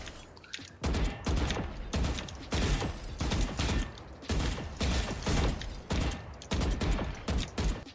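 Vandal rifle fire in the Valorant video game rings out in repeated loud bursts of rapid shots, separated by short pauses, with mechanical clicks between the volleys.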